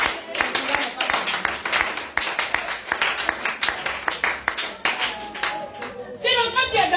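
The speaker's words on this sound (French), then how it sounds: "Oui, acclame Jésus." A church congregation claps to acclaim Jesus, a loud run of quick, uneven handclaps spread across the room, with voices audible beneath the clapping near the end.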